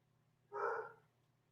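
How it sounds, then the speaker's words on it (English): A dog gives a single short, odd-sounding bark, fairly faint, lasting about half a second over a low steady hum, with no one talking. "That was a weird bark."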